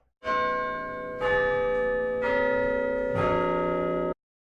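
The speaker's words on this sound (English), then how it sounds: "be sure to smash that bell" A notification bell sound effect rings four times in steady succession, each a bright, resonant, church-like chime that overlaps the previous one before all cut off together, clear with no talk.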